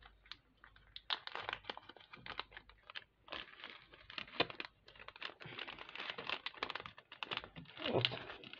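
Hamarus seasoning packets are opened and handled for a snail-eating demonstration, giving repeated papery crinkling and crunching bursts at close range, with only a brief murmur of voice between them.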